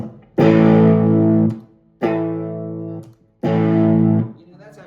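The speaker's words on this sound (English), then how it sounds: "That's actually more distortion than I want." Electric guitar played through a distortion pedal on a pedalboard, with three long sustained chords ringing out in turn. Each one is loud, fuzzy and harmonically rich, and a short gap of silence separates them.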